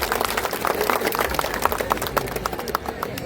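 Dense applause and clapping from a crowd at a temple gathering at a saint's samadhi shrine in Maharashtra, welcoming a guest; steady, sustained clapping with a murmur of voices beneath.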